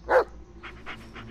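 A dog in the Blair Witch game gives one sharp close bark, then a few softer whimpering, panting sounds, with no voices.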